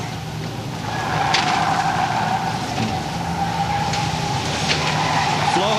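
Trucks from a truck club roll past in a street parade, a steady broad rumble of engines and road noise with a sustained mid tone, continuous and fairly loud throughout with a few sharper transient bursts.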